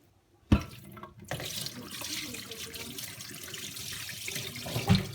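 A kitchen tap gushes into a sink or container while the water is changed on freshly churned butter made from raw Jersey milk, running steadily close by with a few clunks, with no talk.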